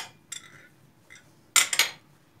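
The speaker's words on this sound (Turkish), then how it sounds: "Ve balımızı birer çay kaşığına yakın ayrı ayrı şöyle güzelce bir karıştırıyorum" A teaspoon stirs honey into a homemade drink, giving a few light clinks against the glass followed by a brighter cluster of taps near the end, close and quiet.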